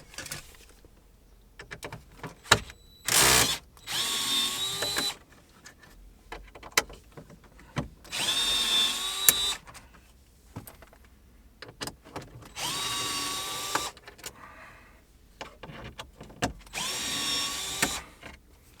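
A power drill driving out T20 Torx screws from the radio of a VW CC, several separate whirring bursts with quiet pauses and small clicks between them, close by.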